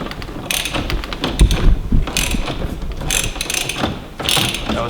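A ratchet works bolts loose on a C5 Corvette steering wheel during a swap to a quick release and OMP wheel, a close, continuous run of clicking and metallic rattling with no pause.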